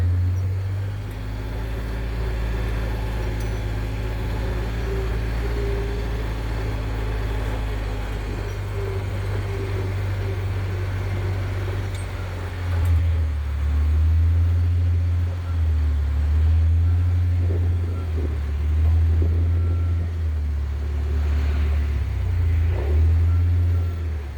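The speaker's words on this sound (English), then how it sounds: "getting on this mule and cruising around" A Mule utility vehicle cruises around a farm in the evening, its engine a steady low rumble that swells slightly partway through, with a voice talking faintly over it.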